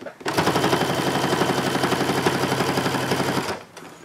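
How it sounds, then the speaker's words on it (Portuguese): Sewing machine stitching the fabric lining of a diaper bag, running steadily in a fast, even mechanical rattle for about three seconds, loud and close, then stopping. "E vou costurar devagarzinho"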